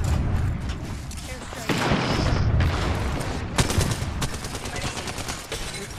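Heavy gunfire and booming blasts fill a ranked Apex Legends fight, loud and dense throughout, with a thermite grenade burning somewhere in the chaos. Voices are heard only faintly.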